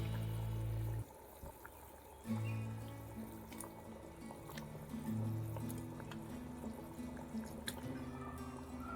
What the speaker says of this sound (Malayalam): ഇനി നമുക്ക് മീൻ ഇതിലേക്ക് ഇട്ട് കൊടുക്കാം.